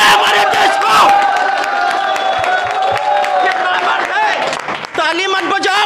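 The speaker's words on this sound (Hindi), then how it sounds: "ताली मत बजाओ, नफरत करो।" Indoor audience in a hall clapping and cheering loudly, with shouts and whoops rising from the crowd, while voices carry over the noise and it thins out near the end.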